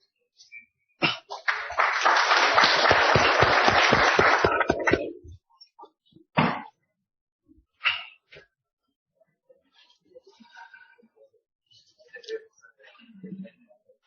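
Applause from an audience at a cardiology conference certificate presentation, a dense burst of clapping lasting about four seconds, followed by scattered claps and brief voices.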